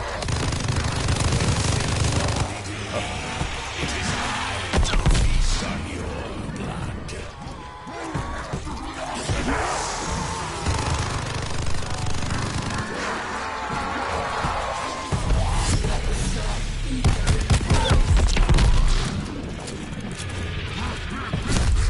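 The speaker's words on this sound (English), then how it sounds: "Light machine guns are my favorite" Light machine gun fire in a video game, sustained rattling bursts with heavy low thumps that come in waves, mixed under a continuous voice talking over the action.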